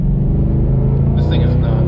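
A twin-turbo Mustang engine running at about 6 psi of boost and hitting boost cut gives a loud, steady, close-up rumble throughout, with a brief rougher patch partway through.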